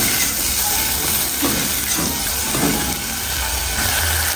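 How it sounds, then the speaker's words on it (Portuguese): Olive oil and garlic sizzle loudly and steadily in a pan, a dense continuous frying hiss with small crackles and no talking. "aí vamos deixar dar uma fritadinha"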